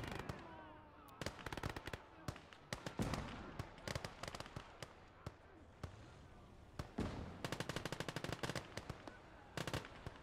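Battle in Call to Arms - Gates of Hell: Ostfront, with dense rapid machine-gun bursts and scattered rifle shots and explosions cracking through a noisy wartime soundscape, loud and continuous over roughly ten seconds.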